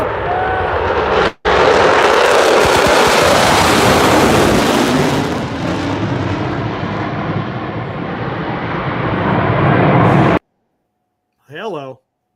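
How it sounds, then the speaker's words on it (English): A large military bomber flies overhead with a loud, sustained roar that builds and fades over several seconds, then cuts off before a short burst of talk. "that's like a big bomber just flew out the other way"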